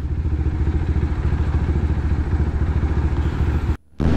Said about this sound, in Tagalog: Init pa sa paa kasi yung fan ng motor andar ng andar kapag ka gantong traffic.